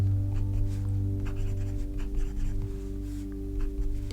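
A fountain pen scratching lightly across paper in short strokes, faint and close, beneath a steady low electrical hum; no one speaks.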